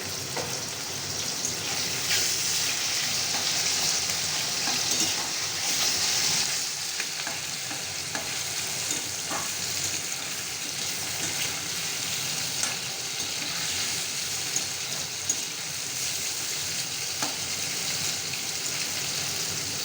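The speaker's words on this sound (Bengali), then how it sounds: "এরপরে চিংড়ি মাছটা একটু ভেজে নেবেন" Shrimp frying in a pan with potatoes, a dense continuous sizzle and crackle close by, steady throughout with occasional stirring touches.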